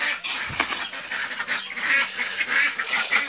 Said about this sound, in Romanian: Timpul să hrănim și rățuștele, care acum sunt rațe mari.